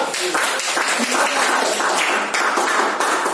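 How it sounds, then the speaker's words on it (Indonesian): A classroom audience applauds group 2, a dense, steady burst of many hands clapping together for a few seconds, loud and close, with no pause. "Kita beri aplaus untuk kelompok 2"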